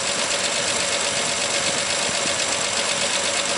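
A 1950 Chevy fire truck engine running steadily after its fuel pump filter was cleaned and a plugged fuel line cleared, a loud continuous rumble and hiss close by, unchanging throughout.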